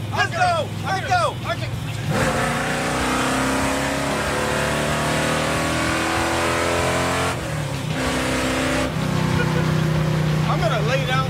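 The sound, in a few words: Plymouth Roadrunner engine revving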